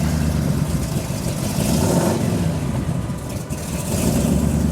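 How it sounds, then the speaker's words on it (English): A supercharged lowrider car engine runs loud and close, a rough, lumpy idle rising and falling with throttle blips throughout. "And it idles, look at that. How easily did that catch its idle?"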